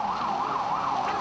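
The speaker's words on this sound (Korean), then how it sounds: "도로 한복판에서 울리는 사이렌 소리를 따라가 보니" Emergency siren wailing on a road at a traffic accident scene, a steady rising and falling tone heard loud and continuous over road noise.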